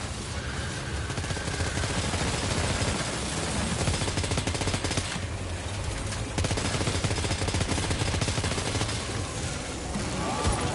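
Sustained gunfire in the video game Death Stranding 2, a dense, continuous barrage of shots running loud and steady throughout with little let-up.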